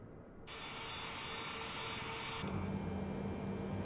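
Small propeller airplane engine spooling up for takeoff on a short runway near Lake Havasu, Arizona, a steady close drone that swells suddenly and then holds loud and even with a low throbbing hum.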